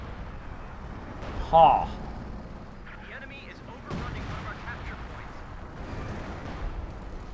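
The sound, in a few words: mortar and artillery barrage in Company of Heroes 2 video game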